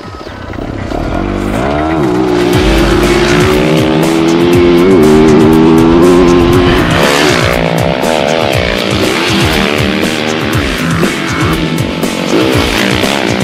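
A 2018 Yamaha YZ450F motocross motorcycle engine revs hard and rises and falls through the gears while riding, a loud, continuous four-stroke roar with no talk.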